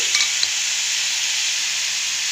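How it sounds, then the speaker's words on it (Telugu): Tomatoes and lentils sizzle in a hot pan for paneer curry, a steady bright frying hiss, close and continuous with no talking. "ఇప్పుడు టమాటాలు గుడ్డు పప్పు వేసి వేయించుకోవాలి"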